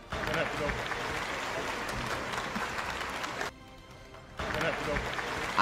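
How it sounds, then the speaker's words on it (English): Recorded crowd applause effect on an awards livestream, a dense sustained wash of clapping that drops out briefly near the end and then resumes at full strength. "Let's clap it up"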